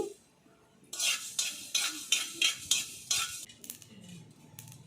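Mustard and fenugreek seeds dry-roasting in a pan, a rapid run of loud scraping stirs and crackles, roughly eight in a row, then fading to scattered pops.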